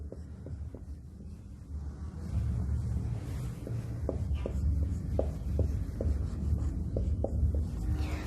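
Chalk taps and scratches on a board in a coaching classroom as a teacher writes out an inequalities reasoning case, sharp regular strokes over a constant low room hum.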